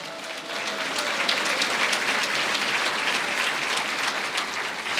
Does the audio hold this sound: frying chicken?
no